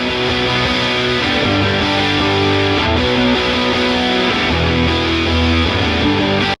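An isolated distorted electric guitar part from a song plays loud, dense, continuous chords that drive steadily from start to end with a thick, saturated crunch.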